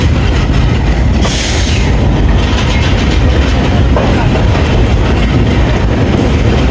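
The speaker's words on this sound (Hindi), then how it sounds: "हमारी 104 डाउन सुबह खराम रेल कार लाहौर जंक्शन के प्लेटफार्म नंबर 2 पे अप्रोच बना रही है" The Subak Kharam railcar, 104 Down, rolls into platform 2 at Lahore Junction at night, a loud steady rumble with rhythmic clickety-clack of wheels over rail joints and a brief high squeal near the start.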